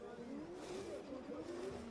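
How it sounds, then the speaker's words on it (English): Drift car screaming down the straight on its first qualifying run at an international drift championship in Oman, a loud, continuous rising engine wail with some tyre noise, under faint commentary. "Screams this car as he makes his way down the straight."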